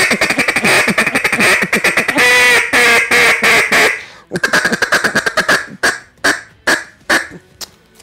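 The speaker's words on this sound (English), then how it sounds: "We're going to add drag quacks, we're going to add strings in there" Duck call blown in a cadence with a feed call, drag quacks and strings: rapid loud chattering bursts give way to spaced, drawn-out quacks, close and alone.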